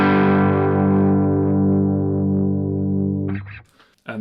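A clean electric guitar through a Marshall SV20H Plexi valve head rings out as one sustained chord, loud and up close, slowly decaying for a few seconds before a brief scratchy pick noise at the end.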